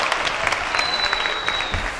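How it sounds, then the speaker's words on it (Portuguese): A crowd at a Brazilian entertainment interview event claps on request, a steady wash of applause with individual claps standing out near the front. "Aplaude aí só pra não sair um vácuo."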